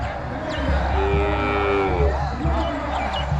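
A bull brought to a bull-taming event moos loudly and close by in a single long call, over a constant rumble of the outdoor crowd and background noise.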